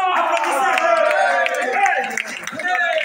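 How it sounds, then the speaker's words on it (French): Audience clapping at a lively French-speaking gathering, a steady patter of hands under loud shouting and chanting voices throughout. "Applaudissez!"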